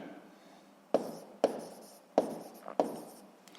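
Pen writing by hand on paper during a physics lesson: four short scratchy bursts of strokes, close and fairly quiet, separated by brief pauses, with no speech.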